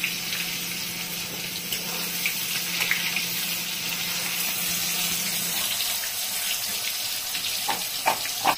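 Steady hiss of eggplant with turmeric and salt sizzling in hot oil with a low hum underneath, then a few sharp crackles and pops near the end.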